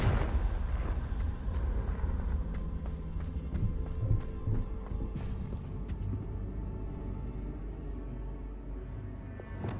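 A Confringo blasting spell goes off in the video game Hogwarts Legacy, a loud sustained rumble of explosive blasts with a rapid crackling burst of impacts early on before it settles into a lingering roar.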